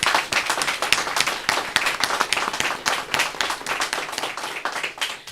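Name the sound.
round of applause for children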